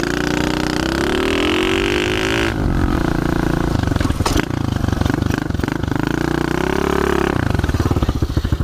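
A pit bike engine runs close by while being ridden on wet, slippery ground, its loud buzzing note rising and falling with throttle blips and revs throughout.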